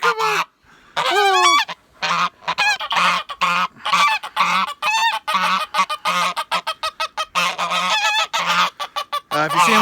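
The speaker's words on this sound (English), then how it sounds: "Yeah, you're a good goose. You're a good goose." A goose honks loudly and close up, with a rapid string of repeated nasal honks and short calls over about ten seconds, some brief pauses between bursts, and no talking.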